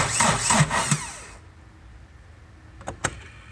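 A 2020 Chevrolet Silverado 1500 Duramax diesel on a very low battery tries to crank with a loud, strained whir for about a second, then falls quiet before two brief clicks and knocks.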